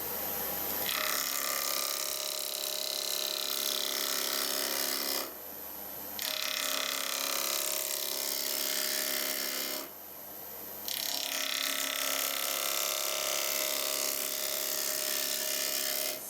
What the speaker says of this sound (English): Going to step that cut to there, step that one to there, that one to there, and then get to the thickness I want.